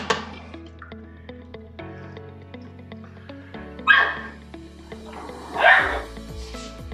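A small puppy yips and barks in a home kitchen, two short sharp bursts standing out over a steady background of music and household noise.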